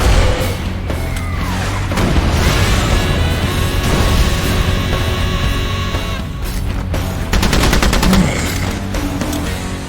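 Heavy machine gun fire from the film Planet Terror rattles in long rapid bursts amid booms and crashes, loud and dense throughout with brief shifts in intensity.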